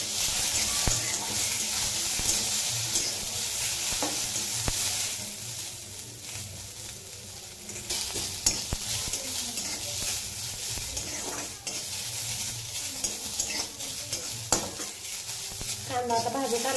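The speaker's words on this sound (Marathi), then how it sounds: "कांदा आता भाजत आलाय चांगला आपला," Onions frying in oil in a pan, a continuous close sizzle broken by repeated scraping and clanking of a spoon stirring them, with no speech.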